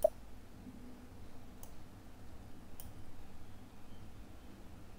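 A single crisp mouse click lands at the start, followed by a couple of faint ticks against quiet room hiss while a user works through SAP material master screens.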